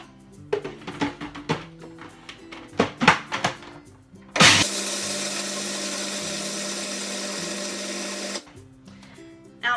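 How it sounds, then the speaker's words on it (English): A blender grinds nuts in one continuous, loud whirring run of about four seconds, preceded by scattered knocks and clatter of preparation and followed by a quiet stretch and a final thump. "I'm going to blend that up first."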